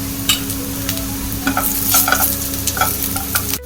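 Coriander powder being stirred into softened frying onions for a Kerala fish molly, a steady sizzle with irregular scraping strokes of a spoon against the pan, close and fairly loud, no talking.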